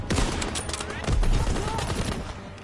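Rapid gunfire erupts in the World War II shooter Call of Duty WW2, loud overlapping bursts and single shots crackling densely from start to finish, with a voice briefly heard among the shots.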